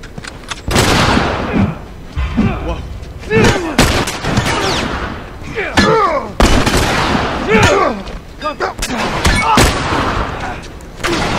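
Gunfire in The Last of Us video game, loud sharp shots and bursts scattered through the stretch, with a voice talking between and over the blasts.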